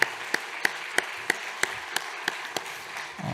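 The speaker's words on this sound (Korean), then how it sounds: "여러분 박수로 크게 환영해 주시면 좋겠습니다." In a church service, hands clap to welcome a new pastor. About nine sharp claps come at an even, measured pace over a quiet room, then fade out.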